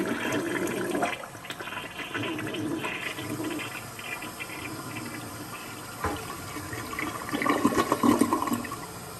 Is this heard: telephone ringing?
no